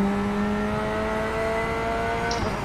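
A race car engine on the Nordschleife winds up hard under acceleration, a steady rising high-pitched engine whine held loud and close, with a sharp shift or blip near the end.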